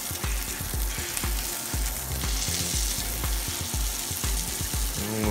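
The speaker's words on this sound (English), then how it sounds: "the juices, the hot oil is going right through the meat" Pork chops fry in hot oil with a loud, dense sizzle and crackle, overlaid by a rapid run of low rhythmic bubbling pops, close and steady throughout.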